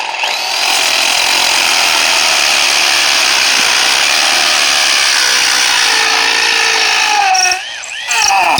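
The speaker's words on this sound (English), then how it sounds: "When you're working and drilling to this depth with this type of drill bits, hold the drill steady" A loud, continuous whine of a hammer drill boring into concrete, running steadily before briefly stopping near the end.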